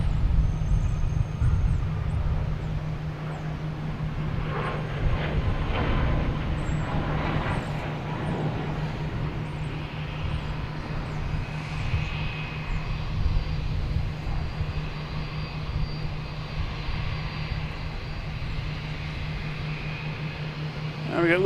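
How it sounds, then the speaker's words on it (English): A Lufthansa airliner taxis at Boston Logan Airport, a steady distant engine drone holding for the whole stretch, with a voice talking over it. "We got Lufthansa rolling away here."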